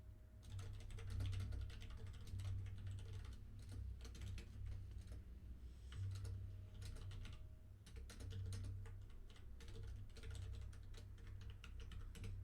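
Steady computer keyboard typing of C++ code runs continuously and close throughout, a dense stream of key clicks with no talking.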